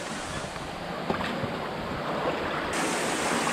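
A mountain stream in the Fenglin creek valley near Phoenix Waterfall, rushing steadily over rocks, a continuous close wash of water with no voices.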